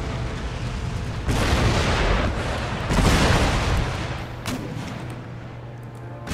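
An artillery salvo in the Empire Total War game pounds fort walls during a Danish siege against Mysore, with two loud, heavy booming bursts over a constant rumbling battle background.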